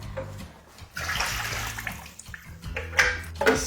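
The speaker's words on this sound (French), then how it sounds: "On va venir retirer notre bac à eau. On va venir le vider." Water being poured out of a removable appliance water tank before descaling, a sloshing, splashing gush that rises and falls, with small clatters of the tank.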